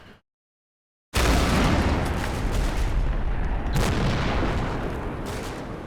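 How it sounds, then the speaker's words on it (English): Tank gunfire from Combat Mission: Battle for Normandy, with a possible StuG or tank destroyer involved. After a moment of silence, heavy booming shots erupt and layer into a sustained roar of artillery-like fire, with a sharp blast near the middle. "still firing the rounds out"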